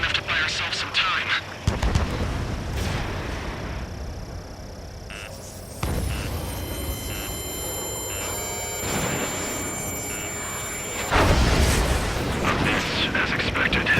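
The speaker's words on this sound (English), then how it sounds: "Some kind of energy weapon. No, it's a railgun." Railgun energy weapon firing in the Ace Combat 7 air combat game, several heavy booming blasts with sharp crackling onsets and long rumbling tails, over a whine of jet engines and a ringing tone.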